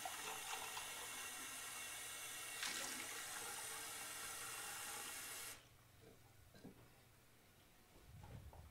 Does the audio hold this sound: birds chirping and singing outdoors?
no